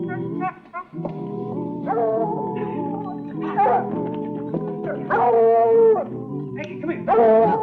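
A dog howls and whimpers close by in a sitcom scene, with long wavering howls and yips that rise and fall over several seconds, loud and continuous.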